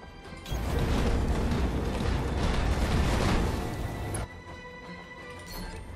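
Heavy mech weapon fire and a rolling explosion in the BattleTech strategy game, a dense, loud roar swelling for several seconds before cutting off abruptly to a quieter mechanical hum.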